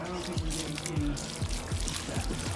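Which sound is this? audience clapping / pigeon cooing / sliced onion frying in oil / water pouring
water pouring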